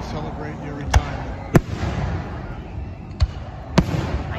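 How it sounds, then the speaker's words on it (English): A small fireworks show for a retirement celebration sends out four sharp, separate bangs spaced a second or two apart over a steady low background rumble. "And there's a little fireworks show for you to celebrate your retirement."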